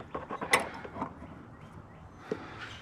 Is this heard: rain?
no